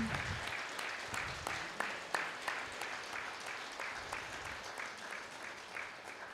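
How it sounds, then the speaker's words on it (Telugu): Audience applause at a gathering, a steady wash of many hands clapping throughout, fairly distant and even, with faint voices underneath. "ఒక్కసారి మరి అందరికీ కూడా గట్టిగా కరతాళ ధ్వనులతో మనం చప్పట్లు కొడదామండి."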